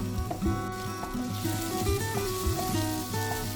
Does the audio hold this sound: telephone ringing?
no